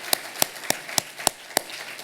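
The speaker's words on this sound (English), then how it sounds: "Round of applause for our very generous speaker." Applause for a guest speaker at a startup founder talk: six sharp, evenly spaced claps ring out over a quiet background, sounding like a small, sparse clap rather than a full crowd.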